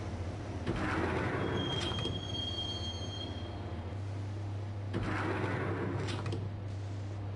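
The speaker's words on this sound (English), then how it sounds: "the train doors had already shut behind me, and I was in for the ride" Interior of a train in motion with its doors shut, a steady low rumble of wheels on track throughout, a faint high squeal near the start and brief rattling surges midway, like a subway carriage arriving at a station.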